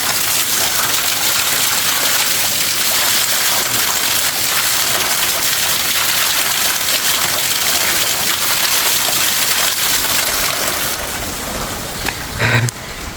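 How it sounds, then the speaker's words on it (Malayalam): Mountain water rushes down a slope near Zakopane, a loud, dense, continuous gush that fills the whole scene and eases only slightly near the end. "മലമുകളിൽ നിന്ന് ഒഴുകി വരുന്ന വെള്ളം"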